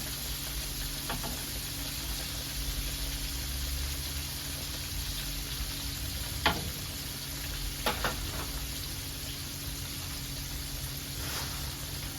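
Flounder fillets deep-frying in oil in a Southern fish fry make a faint, steady hiss and bubble, with a couple of brief clatters partway through and no speech.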